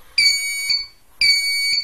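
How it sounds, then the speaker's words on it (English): An MH1210B incubator temperature controller alarm beeps in two long, piercing bursts separated by a short gap, loud and close. "so that's the alarm right there."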